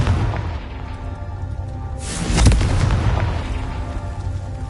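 A fiery Confringo blast spell from Hogwarts Legacy detonates with a sudden loud boom and a crackling burst, its roar swelling briefly over a steady ambient rumble before fading back down.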